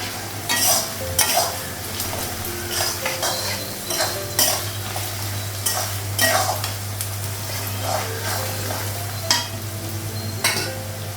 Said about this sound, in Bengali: পেঁয়াজটা ভেজে নেব, তারপর মাংসটা লাগাবো